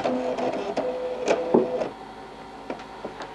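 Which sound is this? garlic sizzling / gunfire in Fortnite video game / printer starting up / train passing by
printer starting up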